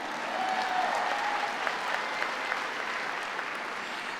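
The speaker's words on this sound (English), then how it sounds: "Matthew, yes, you can still cheer, please," Audience at a University of Calgary spring convocation applauding steadily, a dense even wash of clapping with a few faint cheers, sustained at moderate loudness throughout.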